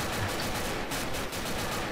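Gunfire with explosive ammo in Left 4 Dead 2, heard as a dense, continuous roar of rapid shots and blasts that stays loud and unbroken throughout, with no voices.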